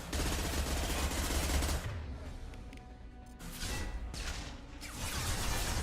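A hacked turret in Mass Effect 2 firing in sustained, dense automatic bursts, loud and close, easing briefly between volleys before resuming with renewed intensity.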